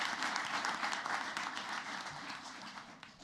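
Sustained applause from an audience at a school district board of education meeting honoring elementary school Pride winners, a dense steady wash of clapping that fades slightly toward the end.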